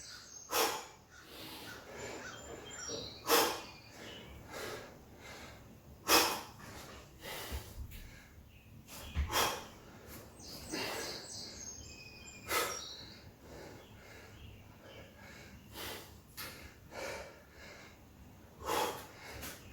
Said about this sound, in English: Inhaling all the way down, big exhale